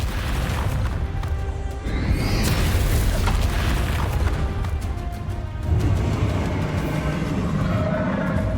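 A Confringo blasting spell goes off during a dragon battle in Hogwarts Legacy, a loud, roaring explosive burst that merges into sustained, churning booming and rumble lasting several seconds.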